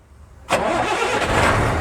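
A truck engine cranks and catches abruptly, then settles into a loud, steady running rumble close by, with no talk over it.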